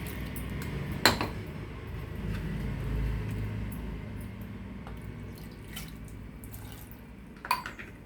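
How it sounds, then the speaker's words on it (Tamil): Water is poured into tomato dosa batter in a kitchen bowl, a soft, low splashing wash that runs throughout, with a couple of sharp utensil clinks near the start and end. "இதில் தண்ணியை ஊற்றி"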